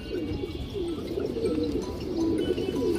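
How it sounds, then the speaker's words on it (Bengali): A full aluminium silver pigeon of parrot-like shape coos in soft repeated phrases, close and fairly quiet over a low background hum. "ফুল অ্যালুমিনিয়াম সিলভার কবুতর, তোতা শেপের কবুতর দর্শক।"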